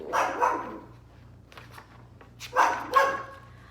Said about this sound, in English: My castle has a very loud puppy inside of it.